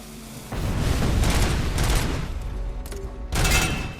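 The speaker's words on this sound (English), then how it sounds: "he's still shooting" Enemy gunfire in Robocop: Rogue City, a loud, dense fusillade of rapid shots and booms that keeps rolling through the whole stretch, with a fresh burst near the end.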